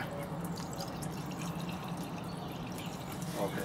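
Coolant water trickling and dripping from the top of the cylinder head of a Mk2 Golf during a coolant flush, a steady low gurgling flow heard fairly close in a garage with faint background murmur.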